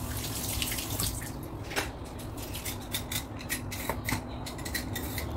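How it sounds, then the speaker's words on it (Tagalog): A can of corn is rinsed under a running kitchen tap, giving a continuous close water splash broken by a few short sharp clinks and knocks, with no talking. "Hinugasan ko din yung lata ng corn."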